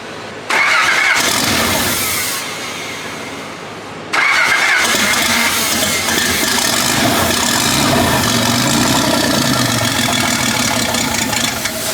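A rebuilt small block Chevrolet V8 gets its first start. The starter cranks for a few seconds, then the engine catches with a loud burst and settles into a rough, rumbling run, up close.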